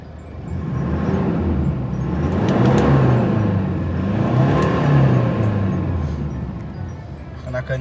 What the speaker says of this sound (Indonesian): Coba kita hidupin mesinnya guys.